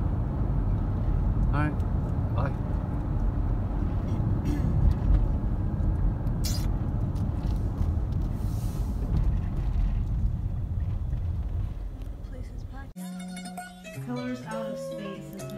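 A car drives along a road with a steady low rumble of engine and tyre noise from inside the cabin while someone talks over it; the drone drops away near the end as music comes in.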